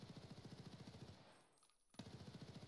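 Rapid automatic hip fire from an HK416A5 rifle in Escape From Tarkov, a fast even stream of shots that breaks off briefly and then resumes just as loud.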